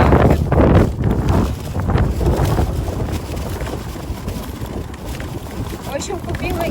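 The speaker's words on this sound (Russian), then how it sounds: "Ветер сильный." Strong wind roars and buffets the microphone outdoors on a hot day in Turkey, loud gusts rising and falling throughout while someone talks over it.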